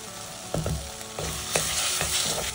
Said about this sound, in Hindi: खूब अच्छे से प्याज टमाटर को अब हम पकने देंगे बहुत ही बढ़िया तरीके से